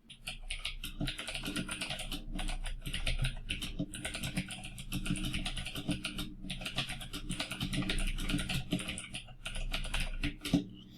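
Continuous close typing on a computer keyboard, a dense rapid patter of key clicks with brief pauses between bursts, no voices.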